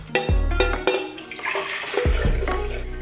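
Cooled dill pickle brine pours from a spouted container into jars of cucumbers, a splashing, gurgling stream with a few clinks, continuous and close for about three seconds.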